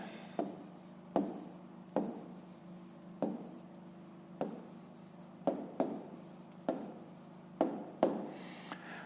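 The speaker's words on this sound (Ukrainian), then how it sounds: "Записуємо відповідь, пишемо відповідь." Pen strokes of handwriting on paper as a math answer is written out, about a dozen short scratchy strokes in an irregular rhythm, close and quiet with no talking.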